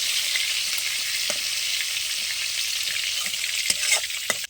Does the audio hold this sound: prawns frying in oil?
yes